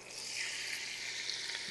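Sauerkraut going into a cooking pot, giving a brief, soft, steady sizzle with faint crackles, alone and fairly quiet.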